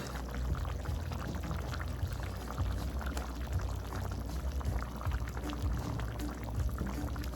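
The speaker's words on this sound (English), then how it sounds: "I'm gonna add my fish inside my coconut milk" Fish goes into simmering coconut milk: a steady bubbling, pouring wash of liquid runs continuously at low to moderate level, close by, with no voices.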